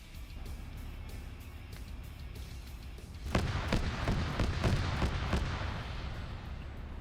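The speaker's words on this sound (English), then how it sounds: "And you're hearing the gunfire in the distance here." Distant gunfire crackles through a war-battle video game scene, a run of sharp shots and booming impacts that swells midway, over a low rumbling background with no talk.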